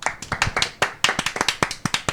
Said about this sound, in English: Sound of applause